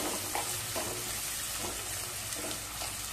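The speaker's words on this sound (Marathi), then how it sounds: "कांदा सुद्धा आपल्याला छान परतवून घ्यायचा आहे" Chopped onion sizzles steadily in a hot pan, a dense continuous frying hiss broken by a few soft stirring scrapes every second or so, close and fairly loud, with no voices.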